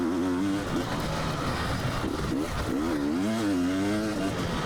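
A KTM two-stroke off-road dirt bike, likely the 2022 300 XC-W, revs and surges along a trail, its engine note rising and falling loudly and continuously close to the rider.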